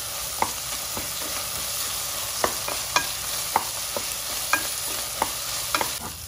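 Rajma and ginger garlic paste fry in oil under a constant bright sizzle, with a spatula scraping the pan in evenly spaced strokes, near and with no talking.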